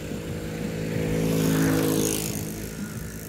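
A car passes on a street in Matanzas, Cuba, at night, its engine noise swelling to a peak midway and then fading, heard alone with no talking.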